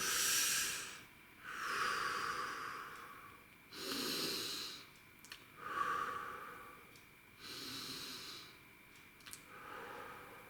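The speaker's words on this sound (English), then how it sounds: "you need to take some deep breaths before you start. 3 deep breaths." Slow, deep human breaths taken one after another, each long inhale and exhale rising and falling in a steady rhythm, close and alone with no talking.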